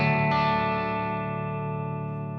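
Les Paul electric guitar tuned down and played through a Fender Twin Reverb amp, a single sustained distorted chord ringing loud and close, slowly decaying over a couple of seconds with no talking.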